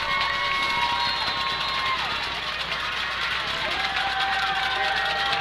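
A home football crowd at a Jones game cheers loudly and continuously late in a close contest, a broad roar of many voices with whistles and shouts rising over it, steady throughout.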